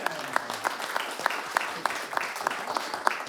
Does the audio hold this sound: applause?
yes